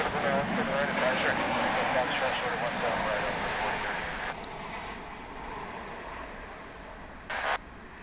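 A 13-year-old United Boeing 737-900 arriving from Denver lands at Dallas Fort Worth airport, its jet roar loud and broad at first, then slowly fading.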